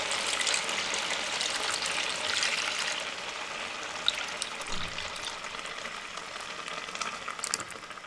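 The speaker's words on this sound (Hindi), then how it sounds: "अब इसमें हम दूध डाल देंगे" Milk poured into a pot of softened carrots and rice for gajar kheer, a steady close liquid pour with soft splashing that runs continuously without talk.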